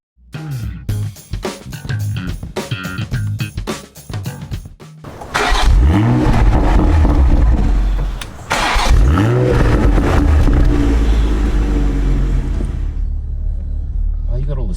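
A 2019 Toyota GR Supra engine rumbles while driving, with a couple of loud revving surges and steady mid-pitched engine drone over a road bed; a person talks over the first part.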